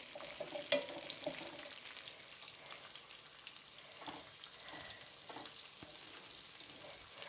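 Cauliflower pieces sizzling steadily in a hot pan, with faint stirring scrapes near the start and a quiet, continuous crackle throughout.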